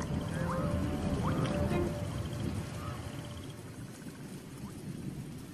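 Steady rain pours over a flooded plain while low thunder rolls beneath it, a dense, even wash of noise with a few faint drips and no voices.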